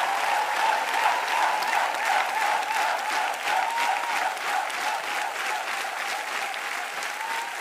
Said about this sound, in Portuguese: Calderola aplaudindo de pé.